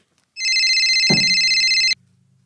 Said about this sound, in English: Oh, Frankie, I'm getting a phone call, man.